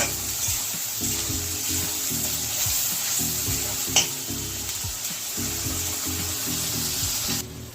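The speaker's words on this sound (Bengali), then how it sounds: "পেঁয়াজটাকে ভালো করে ভেজে নিতে হবে" Onions sizzle steadily in hot oil while a utensil stirs them in repeated scraping strokes, with one small knock partway through.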